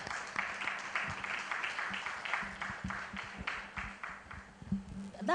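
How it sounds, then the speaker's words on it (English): Audience applause at an insurance reform session during a youth business exhibition, a steady wash of many hands clapping, moderately loud and sustained throughout. "That clap is so big."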